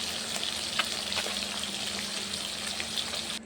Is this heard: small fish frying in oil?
yes